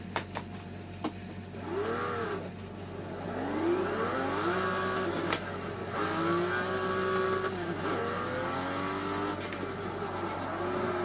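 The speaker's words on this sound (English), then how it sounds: "You have to test your fifth gear to third gear braking distance without the brake pad." Car engine heard from inside as the driver drops from fifth gear to third to slow without the brakes, the engine note rising and falling through the shifts, steady and close throughout.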